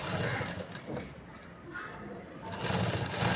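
Close, fast whirring of a sewing machine stitching a blouse lining, running in steady bursts with a brief easing midway.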